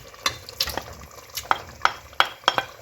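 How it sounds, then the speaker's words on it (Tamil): Prawns being stirred into boiling biryani masala: about seven sharp, irregular spoon scrapes and taps against the pot, close and fairly crisp, over a low bubbling simmer, with no talking. "இறாலை சேர்த்து நல்லா கலந்து விட்டு மறுபடியும் மூடி வச்சு கொள்ளுங்க"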